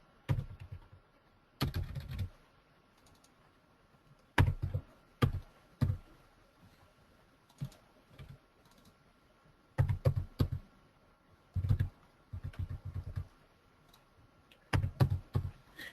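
Fingers typing on a computer keyboard while entering a social security number into an online form, short bursts of close, crisp key clicks separated by quiet pauses.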